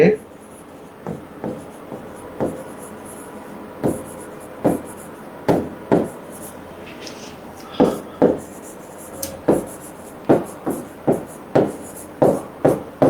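Chalk or marker writing math equations on a board during a complex-numbers lecture: a steady series of sharp tapping strokes and scratches, close and fairly loud, over quiet room noise.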